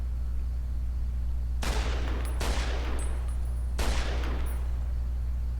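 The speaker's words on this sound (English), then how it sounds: "Come on, hit your shots, Brandon." Gunfire in Fallout New Vegas sounds as three sharp, loud blasts spaced about a second apart, each ringing out with a decaying tail over a steady low background hum.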